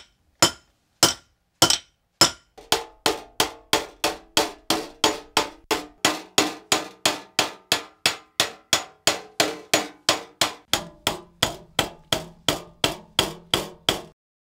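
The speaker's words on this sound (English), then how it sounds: "Hammering it makes it harder." Metal struck with a hammer against a stake on a wooden hammering base in traditional Japanese metalwork: a few spaced ringing blows, then a steady, fast run of about forty sharp, bright clinks, close and loud.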